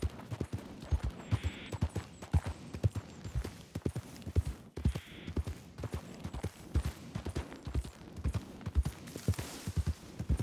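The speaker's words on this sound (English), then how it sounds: "Did the horse run away?" Horse hooves pound in a video game, a busy, uneven clatter of near and far hoofbeats running continuously, moderately loud with sharp thuds throughout.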